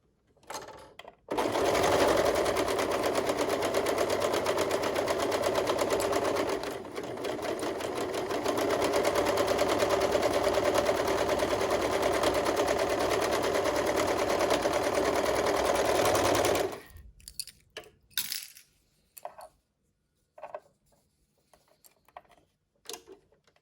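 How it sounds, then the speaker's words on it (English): Sewing machine runs steadily for about fifteen seconds, stitching a fabric tube for a hood, with a brief slowdown partway through, then stops, followed by scattered handling clicks and rustles. "we're going to sew along this and we're going to be making a tube that we're going to flip inside out afterwards"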